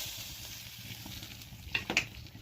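A bright, steady hiss of hot oil tempering with garlic and asafoetida sizzling up close as it is poured into fenugreek-leaf lentils, with a couple of soft clinks near the end.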